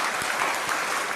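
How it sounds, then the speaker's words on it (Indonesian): Audience applause in a talk hall, a short burst of steady, fairly faint clapping from a crowd with no voices over it. "Kasih tepuk tangan dulu, kasih tepuk tangan"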